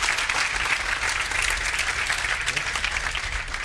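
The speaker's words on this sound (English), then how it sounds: "give these guys a round of applause" An audience applauding a pair of guys at a seminar on body language: a dense, steady wash of clapping from a crowd, continuous and fairly loud throughout.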